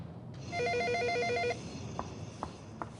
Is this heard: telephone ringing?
yes